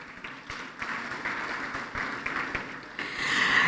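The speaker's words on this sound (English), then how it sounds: "Let's give our Secretary General of the African Development Bank Group a good round of applause" An audience at a ceremony for the African Development Bank Group applauds with a sustained, moderately loud clapping that swells toward the end.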